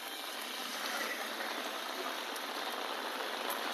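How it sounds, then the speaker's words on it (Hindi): Heavy rain falls steadily in a dense, even hiss that stays close and constant throughout, with no voices. "एक तो बारिश इतनी जोर से है भाई"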